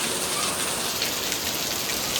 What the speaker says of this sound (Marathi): खूप पाऊस लागतो